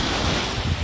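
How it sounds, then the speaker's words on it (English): Ocean waves wash onto a Northern Michigan beach, a loud continuous roaring surf blended with heavy wind buffeting the microphone, brief and unbroken. "Oh, too many waves."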